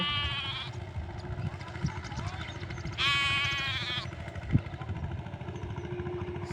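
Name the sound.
sheep and goats bleating in a field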